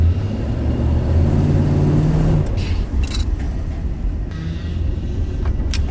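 The engine of a 1984 Chevrolet Monte Carlo SS, revived after sitting for 22 years, runs with a loud, steady low rumble close by, with a few faint clicks and knocks over it.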